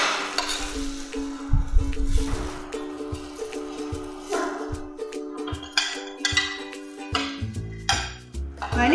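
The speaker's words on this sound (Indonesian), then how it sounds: "ini kemirinya digonseng dulu ya, baru di blender nanti ya" Candlenuts are dry-roasted in a pan without oil and stirred with a utensil, giving repeated scraping and clinking strokes of metal on the pan over a faint background sizzle, close and moderately loud, with no talking.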